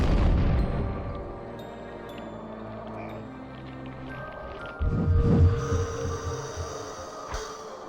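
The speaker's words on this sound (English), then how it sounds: "He's trying to call in tactical airstrikes!" Tactical airstrike explosions in American McGee's Alice: muffled deep booms under a low hum, with a heavier burst of rumbling blasts around the middle and a sharp crack near the end.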